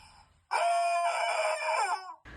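A rooster-like screaming chicken gives one long, loud, strained cry lasting about one and a half seconds, with a quieter lead-in before it and an abrupt cut at the end.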